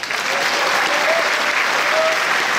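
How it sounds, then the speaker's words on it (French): Loud, dense applause from an audience in a large cinema hall at an official film premiere, sustained and even throughout with a few voices or whistles rising above the clapping. "je vous demande d'applaudir les 3."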